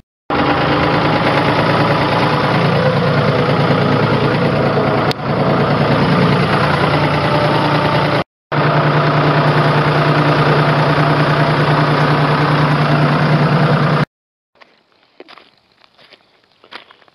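An old 50 hp tractor engine running on a farm during oat harvest, a loud steady chugging drone close by, briefly cut off twice and then stopping, leaving faint scattered noises.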